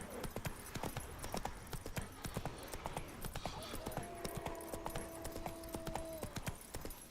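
Roach's hooves in The Witcher 3 clop at a steady, quick trot, a dense run of crisp hoofbeats close up that keeps going without a break. A short tonal whinny-like call rises over it partway through.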